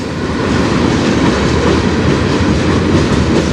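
A CN manifest freight train, led by locomotives 3185 and 5629 on the Strathroy Subdivision, rolls steadily past close by at speed, a loud continuous rumble with rail clatter and no pauses.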